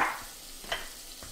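Onion softening in a knob of butter in a hot frying pan, a faint steady sizzle with a brief spatter at the start and a couple of soft stirring touches.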